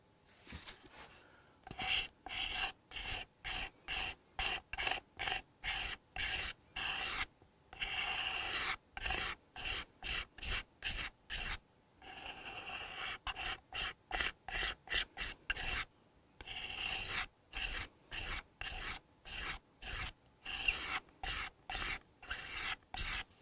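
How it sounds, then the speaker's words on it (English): A very sharp little scraper is drawn across the wood of a Hofner Galaxie guitar in quick, rhythmic rasping strokes, close and crisp, in bursts of rapid passes separated by brief pauses, with no talk. "It's a very, very, very sharp little scraper"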